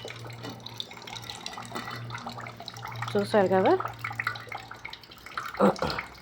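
Water trickles and drains steadily through a filter close by during homemade coconut oil processing, while a person talks briefly over it.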